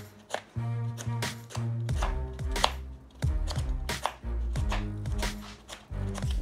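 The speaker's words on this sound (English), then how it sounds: "You can cut your onions however you wanna cut them." A kitchen knife chopping vegetables like broccoli and carrots for a stir fry, crisp knocks on a cutting board in quick uneven runs, close and clear with no talking.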